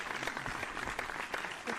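Podcast applause sound effect, a dense burst of many hands clapping in a crowd, steady and fairly loud throughout.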